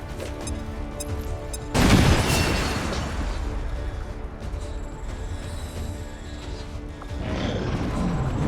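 A frag grenade goes off in the strategy video game XCOM 2, a sudden loud boom and broadband burst that decays into a rumbling tail beneath ongoing game music and ambience.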